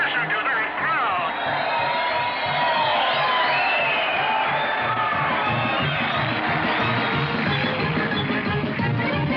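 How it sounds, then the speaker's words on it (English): A large crowd roars and cheers continuously at the finish of a race as the winner crosses the line, loud and sustained with whoops and shouts throughout. "will you listen to that crowd?"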